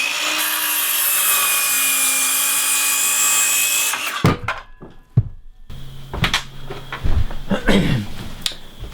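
A circular saw cuts wood for a gable truss, a loud sustained whine for several seconds before the blade stops, followed by clattering and knocking of lumber being handled.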